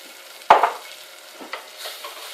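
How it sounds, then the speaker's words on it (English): Melted butter and plain flour are stirred together in a pan for a roux. A sharp scrape comes first, followed by a soft sizzle and a few lighter stirring strokes. "Just mix that together and leave it for 1 minute."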